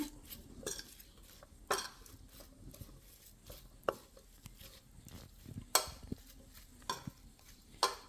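A spoon scrapes and knocks against a bowl as a spice mixture with chili flakes is stirred for onion lachha paratha, giving irregular clinks and taps over a soft continuous rustle.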